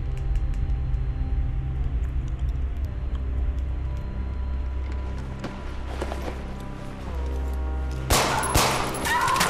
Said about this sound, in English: M240 Bravo. Just like my buddy Gumby used to shoot.